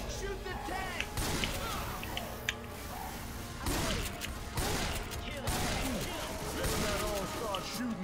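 Gunfire and zombie-fighting action from Left 4 Dead 2 play at moderate volume, with scattered shots and thuds recurring throughout while players chat over the top.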